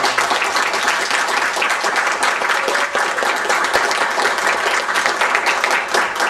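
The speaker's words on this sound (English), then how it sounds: "So I think we should all give a little round of applause." Loud, dense applause fills a town council meeting room as attendees clap for a 13-year-old honoree, a continuous close wash of many hands without pause.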